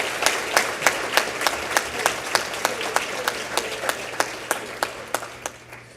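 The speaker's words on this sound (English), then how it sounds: "So let's give Pat a round of applause as well." Audience applause at an awards evening with a silent auction, a steady rhythmic clapping sustained for the whole stretch with sharp regular hand claps standing out over the crowd, no talk over it.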